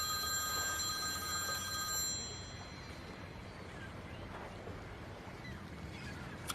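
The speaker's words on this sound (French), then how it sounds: "Je n'avais pas entendu le téléphone." A telephone bell rings in a short burst for about two seconds and then cuts off, leaving only a low room hum. No one speaks.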